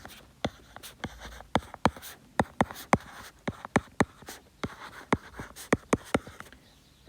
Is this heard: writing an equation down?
yes